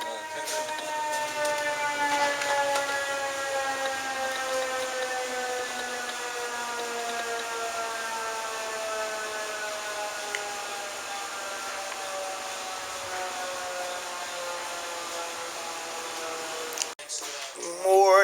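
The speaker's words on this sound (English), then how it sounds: "More tornado warning sirens." Tornado warning air raid sirens wail across the City of Dallas in Lake Highlands, a sustained distant rising and falling tone that fills the whole stretch, with a brief rustle near the end.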